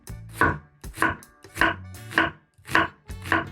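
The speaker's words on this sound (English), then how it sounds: "And then we will slice it." A knife slices through a peeled onion on a cutting board in six steady strokes, each ending in a sharp knock on the board, close and clear with nothing else heard.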